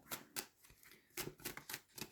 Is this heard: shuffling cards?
yes